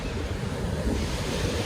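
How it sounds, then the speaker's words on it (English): Surf breaks and washes on a Durban, South Africa beach on an early morning fishing outing, a dense, loud roar of waves with heavy wind buffeting the microphone and no talk. "Always a beautiful morning on the beach."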